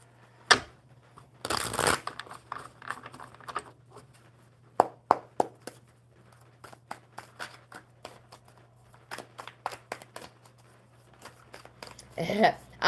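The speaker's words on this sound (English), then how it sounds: "One more good shuffle for Jimmy." A deck of playing cards is shuffled up close: a loud riffle burst, then a long run of quick crisp card snaps and flicks.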